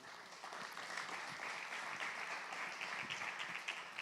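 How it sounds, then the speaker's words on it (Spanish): A church congregation applauds, giving a sustained, even wash of many hands clapping that sounds somewhat distant and subdued, with no voices standing out. "Dele un aplauso al Señor."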